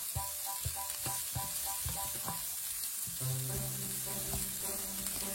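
Shrimp and beans sizzle in a pan for Chinese fried rice while a utensil stirs them, sharp scraping knocks repeating over a steady frying hiss, with no one talking.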